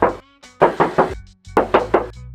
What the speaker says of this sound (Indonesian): Sekarang aku mau coba ketok bagian kap mesinnya.